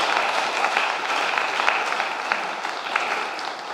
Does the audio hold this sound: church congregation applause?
yes